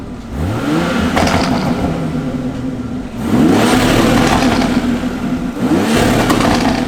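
A car engine fitted with an Injen intake revs up twice, loud and close, each run climbing in pitch with induction whoosh, then falling back between them.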